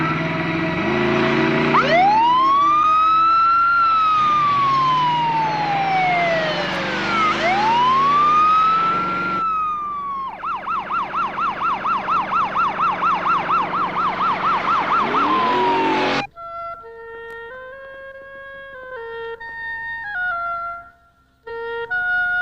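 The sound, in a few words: emergency vehicle siren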